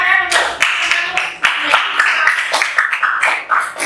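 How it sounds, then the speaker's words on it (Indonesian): A school class claps for a student, a lively burst of many hands clapping close by, irregular and fairly loud, lasting a few seconds. "Tepuk tangan untuk"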